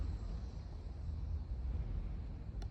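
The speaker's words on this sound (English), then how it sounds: "That's a truck that going past the thing." A truck passes at a distance near old church ruins, heard as a faint, steady low rumble that holds for a few seconds with no clear voices over it.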